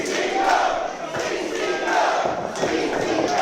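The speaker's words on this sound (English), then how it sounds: "Listen to this crowd." Wrestling show crowd roaring and cheering in a cage match arena, a steady loud wall of voices with swells and occasional thuds, close and continuous throughout.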